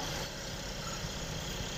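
Motorcycle engines idle together during a farmers' motorcycle march, a steady low rumbling drone that holds even for the whole short stretch.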